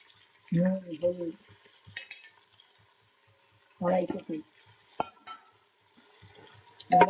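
Potatoes and tomatoes fry and get stirred in a pan with a low sizzle and occasional spoon scrapes and clinks, while a voice talks in short bursts over it.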